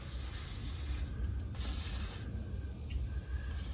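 An aerosol spritzes onto the intake valves of a 1948 engine in short, close hissing bursts, with a steady low rumble running underneath and no talking.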